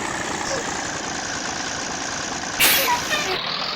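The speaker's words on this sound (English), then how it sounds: "Oh man, you gotta love the engine sound." A 1996 Amtran Ford B800 bus engine in the video game Rigs of Rods idles with a steady low rumble and hum throughout, with a brief louder burst near the end.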